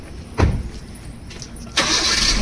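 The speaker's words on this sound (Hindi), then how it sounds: "राकेश जी भी अभी गाड़ी निकल रहा है" A car starting and pulling away outside a school hostel: a sharp thump, then a quieter stretch before a louder, steady engine noise settles in close by.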